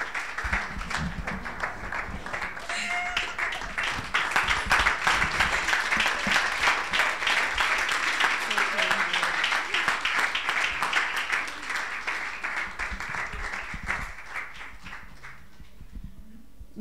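An audience at an International Day of the Girl event applauds in a sustained burst of many hands clapping, swelling then gradually thinning out, with faint talk underneath.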